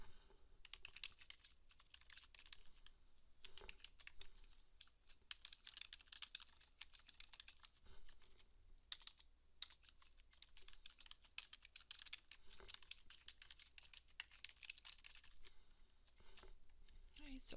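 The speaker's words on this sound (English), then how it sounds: "we'll type in exactly what they want us to" Faint keystrokes on a computer keyboard while entering text in a design view, in quick irregular bursts with short pauses, steady and low in level throughout.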